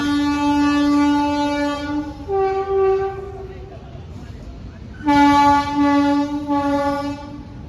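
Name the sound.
diesel train passing a level crossing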